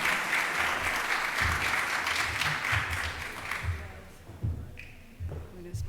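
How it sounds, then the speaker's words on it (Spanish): A university audience applauds at an international exchange event, the clapping dense and steady at first, then thinning out toward the end as a few faint voices come through. "Un aplauso para ella y gracias por estar aquí"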